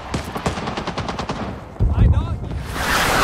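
China Lake grenade launcher fire in the game Rising Storm 2: Vietnam, set in the Battle of Hue City, sounds as a rapid burst of gunfire followed by a heavy low blast, with a voice briefly heard.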